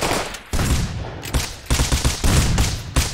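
Rapid automatic gunfire from the survival video game Rust, with bursts of repeated loud shots in clusters over a steady background of game noise, no speech.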